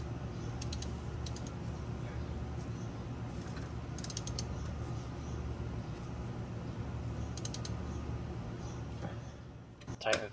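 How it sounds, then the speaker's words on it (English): A ratchet tightens a 13 mm nut on the shift rod of a Mk1 VW Rabbit GTI with an 020 transmission, giving short runs of crisp clicking bursts spaced out over a low, steady background hum. "Tighten the 13 mil nut to 15 foot-pounds."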